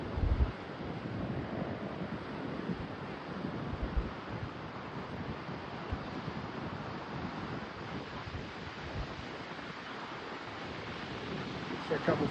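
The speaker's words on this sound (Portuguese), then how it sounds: "O mar continua com ressaca." Rough, storm-churned surf at Praia do Forte in Cabo Frio, Brazil, a continuous broadband roar of breaking waves with strong wind buffeting the microphone, loud and unbroken throughout, with someone speaking Portuguese over it.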